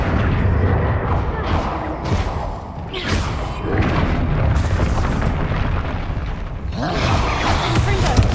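Confringo spell blasts in Hogwarts Legacy, a series of booming, thudding explosions repeating every second or so at close range, loud, with fizzing bursts between impacts.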